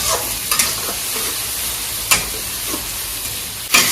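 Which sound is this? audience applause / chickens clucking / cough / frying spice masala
frying spice masala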